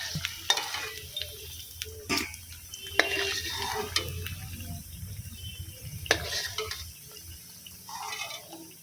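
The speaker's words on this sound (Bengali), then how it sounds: "এবার কড়াইয়ে আলুগুলোকে খুব সুন্দর করে ভেজে নেব" Potatoes frying in oil in a kadai (wok) for an egg biryani: a soft continuous sizzle with occasional scrapes and clinks of a stirring spoon against the pan, no voices.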